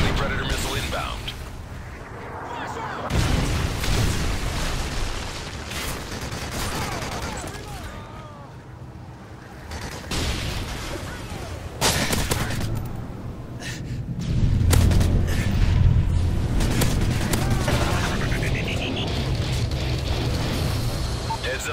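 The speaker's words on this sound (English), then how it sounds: "Friendly Predator missile inbound." Predator missile strikes and gunfire in a Modern Warfare 3 team deathmatch on the Dome map: a dense, loud barrage of blasts, shots and rumbling impacts, with radio voice callouts over the din.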